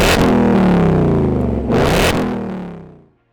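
A Ford Mustang's 5.0-litre V8 fires up and roars through its exhaust in a loud, close rev that briefly dips, surges again, then dies away into silence.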